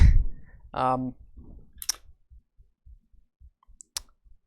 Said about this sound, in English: I got a loud keyboard